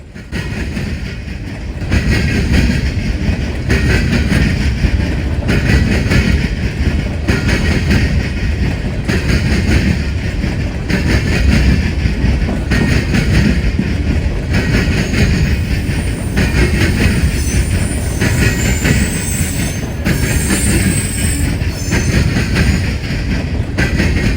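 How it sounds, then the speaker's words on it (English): A long empty coal freight train rolls steadily past up close, wheels clattering rhythmically over rail joints with a loud, continuous rumble. "this is NS 777, an as-needed empty coal train"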